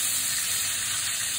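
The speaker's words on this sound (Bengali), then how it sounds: "তারপরে এপিট ওপিট একটু ভালো করে ভেজে নিতে হবে।" Slices of pointed gourd fry in hot oil, giving a loud, steady sizzle that stays close and constant throughout, with no talk.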